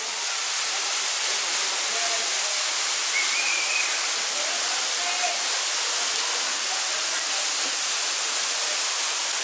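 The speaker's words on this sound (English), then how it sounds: "you can even climb up and get right behind this waterfall" Waterfall in Mazamitla, Jalisco, heard up close as a dense, even roar of pouring water that stays loud and unbroken, with faint chirps barely showing through the rush.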